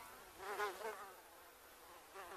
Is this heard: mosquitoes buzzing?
yes